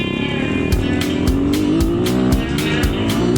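An enduro dirt bike engine revs hard as the rider opens the throttle, a rising buzzing drone that climbs in pitch, close and loud, with regular sharp clicks running through it.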